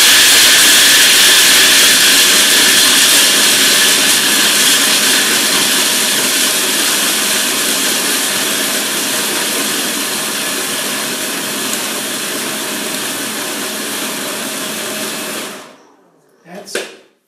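Food processor grinding nuts, a loud continuous high whirring roar that holds steady for about fifteen seconds, slowly easing in pitch before it cuts off, followed by a brief rattle.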